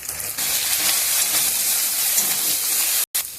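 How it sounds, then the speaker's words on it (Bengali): Onion, ground ginger-garlic paste, chopped tomato, green chilli, and coriander, chilli and turmeric powders sautéing in a pan: a loud, steady sizzle and hiss that continues throughout, with a brief dropout near the end. "মশলা কষানো হয়ে গেছে"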